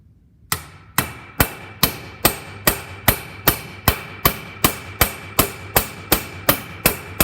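A hammer strikes a rivet on a CCKW military truck brake pad in a steady series of about fifteen sharp, close metallic blows, each evenly spaced and ringing briefly, with no voices.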